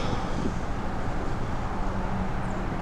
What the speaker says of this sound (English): Wind's starting to blow too